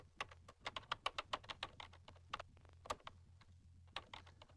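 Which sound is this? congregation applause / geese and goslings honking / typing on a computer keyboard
typing on a computer keyboard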